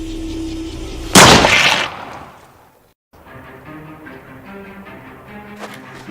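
A single loud, close gunshot bursts out sharply and rings off over about a second, then drops into near silence before a low, steady tonal background, like a soft music bed, comes in.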